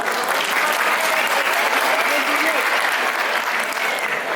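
Applause from a stand-up comedy audience in Bingöl, a continuous wash of clapping from a packed room, loud and even throughout, with a voice faintly mixed in beneath it.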